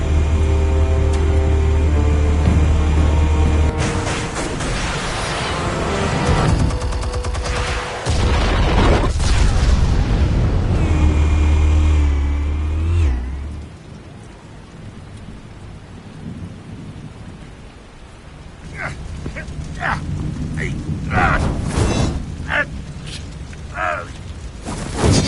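Explosives detonating in the Batman Telltale video game, heavy booming blasts and long rumbling roars, then quieter debris crackles and scattered sharp impacts later on.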